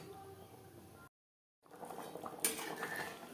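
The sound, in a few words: mixing fried shol fish into gravy in a pan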